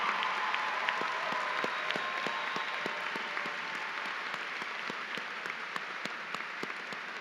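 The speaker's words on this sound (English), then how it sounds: "can we give an applause to the teachers" An audience at a high school graduation ceremony applauds the teachers, with steady, fairly distant clapping from a large crowd continuing throughout.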